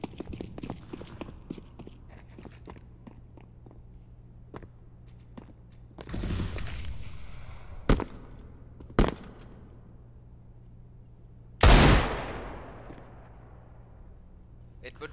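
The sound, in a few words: gunfire in the video game Counter-Strike, esports match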